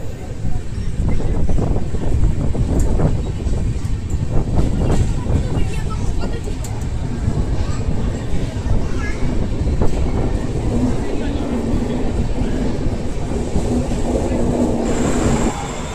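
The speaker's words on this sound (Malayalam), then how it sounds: "ഈ പോകുന്നത് ചെന്നൈ മൈസൂർ എക്സ്പ്രസ് ആണ്." On a dark stretch of line at night, the Chennai Mysore Express goes by in a long, loud, continuous rail rumble with rattling carriages and some voices mixed in.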